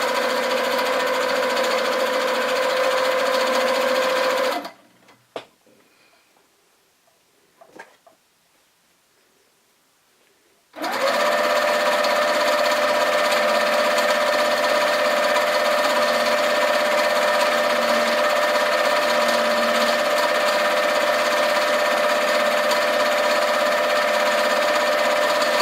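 A Handi Quilter sewing machine couches yarn onto a quilt with a loud, fast, steady mechanical hum, stopping for several seconds of near silence with a few faint clicks, then running again just as steadily.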